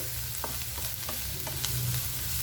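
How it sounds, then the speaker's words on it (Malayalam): Chopped onion, ginger, garlic and green chilli sauté in a pan with a constant close sizzle, broken by soft scraping taps of a spoon stirring them. "ഇനി ഇതെല്ലാം കൂടി നന്നായിട്ടൊന്ന് വഴന്ന് വരണം."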